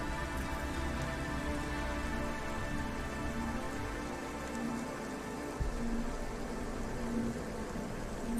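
Rain in the video game Cloudpunk, steady and dense, pattering on surfaces over a low droning hum and a faint repeating tone, continuous and fairly loud without any voices.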